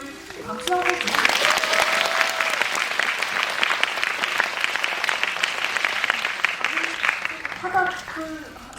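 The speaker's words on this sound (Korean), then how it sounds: "저희 박수 한번 주세요." Audience applause at a Korean film screening with a guest-director talk, a dense, steady wash of clapping that fills the room for most of the stretch, with voices speaking briefly at the start and again as it fades.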